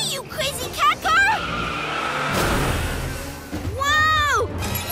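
Animated tire squeals and skidding noises from a PJ Masks cartoon cat car rise and fall over a rumbling engine, with excited cartoon voices shouting in between.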